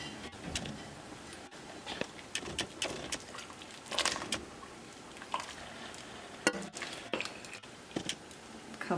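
Chicken chili soup with white beans being ladled from a big pot into a bowl, heard as close, irregular liquid splashes, clinks and wet scraping in quick scattered bursts.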